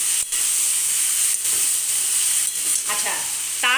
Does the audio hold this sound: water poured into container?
no